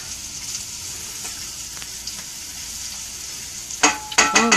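Garlic is stirred through beef stroganoff in a sizzling pan, a constant close fry hiss with faint scrapes, ending in a few sharp utensil clinks against the pan.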